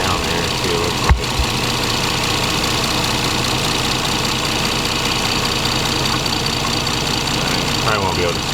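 A turbocharged Lexus IS300 idles steadily up close, its engine drone overlaid with a constant metallic rattle from a loose exhaust, plus a single sharp knock near the start.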